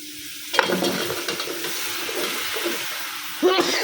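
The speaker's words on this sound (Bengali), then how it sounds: "যে মশলাটা কষানো হয়ে গেছে লাউটা এখন দিয়ে দেবো" Chopped bottle gourd tipped into a pan of frying masala hits with a sudden burst of sizzle, then settles into steady crackling with stirring scrapes. A second louder flare comes near the end.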